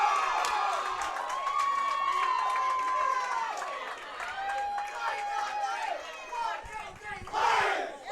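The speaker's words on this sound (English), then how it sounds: "the Elkhart Lions finish their cheer" High school bowling team members at the Indiana state team finals chant and shout a loud cheer together in a crowded hall, with other voices mixed in and a closing burst of yelling.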